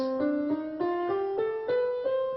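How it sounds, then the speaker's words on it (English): A single melodic line plays a slow ascending minor scale, one clear note at a time, bright and evenly paced, with no voices. "the minor scale sounds like this"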